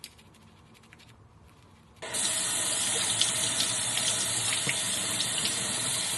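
Fluffy eyeshadow makeup brushes are washed into suds under a faucet; after a few seconds of near quiet, the tap water suddenly gushes on and keeps running steadily and close by.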